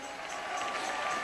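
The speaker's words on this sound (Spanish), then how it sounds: "Dale ese aplauso a Cristo" Congregation applause in a church, a dense steady wash of clapping with some crowd noise, swelling slightly over a second or so.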